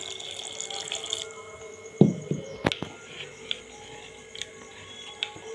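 Plain water poured into a bowl of mango juice and semolina for cake, a brief splashing pour followed by a few small drips and clinks, fairly quiet.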